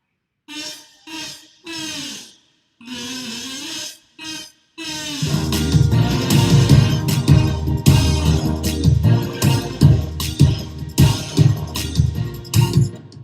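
Buzzy, nasal kazoo phrases in short bursts, then a denser section where the kazoo plays over a thumping rhythmic beat.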